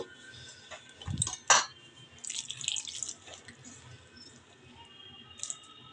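Water is added bit by bit to paratha dough for pea-stuffed koraishutir paratha, giving a couple of soft drips and splashes near the start, then faint wet squelching as it is worked, with no talk.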